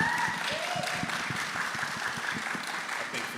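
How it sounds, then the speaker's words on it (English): An audience at a human rights film festival panel at Morehouse College applauds steadily, a dense patter of many hands clapping throughout, fairly loud and sustained, with a voice faintly underneath. "let's give them a round of applause"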